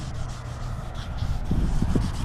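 A car's clear coat is wet-sanded by hand in close, steady rubbing strokes, a soft gritty swish that repeats and grows slightly heavier near the end.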